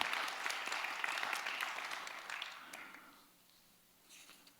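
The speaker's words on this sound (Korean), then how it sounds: "우리 감사한 마음으로 박수 한번 드리겠습니다." Church congregation applauding together at a Friday night service, a dense burst of clapping that fills the room for about three seconds before tapering off into quiet, with a brief faint flutter of claps near the end.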